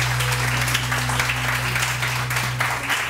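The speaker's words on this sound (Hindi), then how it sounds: "तालियां तो बजाएं" A studio audience on a morning television show claps steadily over a constant low electrical hum, the applause moderately loud and continuous for a few seconds.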